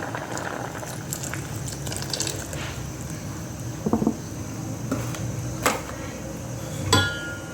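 Thick coconut cream pouring into a pot of Thai pumpkin dessert, a continuous liquid gurgle and bubbling with a few sharp clinks of utensils, close and fairly loud.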